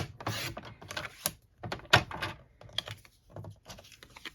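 Paper is being cut for a stamped magnetic bookmark, a few quiet, close snips and crisp rustles with short gaps between them.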